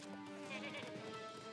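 A faint goat bleat from a video game, one wavering tonal cry with a quavering pitch, heard softly and alone.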